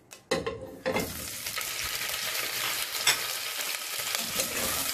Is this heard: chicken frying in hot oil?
yes